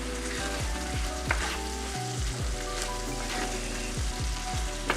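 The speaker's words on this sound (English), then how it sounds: "Give this a stir." A Creole-seasoned pasta sauce bubbles and sizzles in a pan while a spoon stirs it, with repeated soft scraping strokes over a steady simmer, fairly quiet and with no talking.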